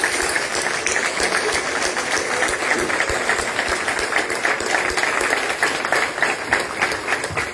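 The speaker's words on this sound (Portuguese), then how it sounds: "uma grande salva de palmas" Big round of applause from diners at a Socialist Party Kings' Day dinner in Vizela, continuous dense clapping with sharp individual claps standing out, steady and fairly close throughout.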